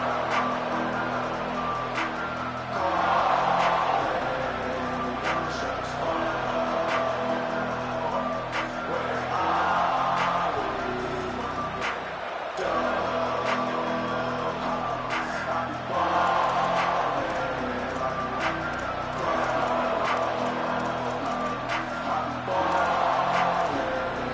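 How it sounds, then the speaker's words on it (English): Stadium crowd cheering in an NCAA college football video game, Georgia versus LSU, a dense roaring wall of voices that swells and dips in waves for the whole stretch, loud and continuous with no clear single voice. "This crowd ready to make its presence known."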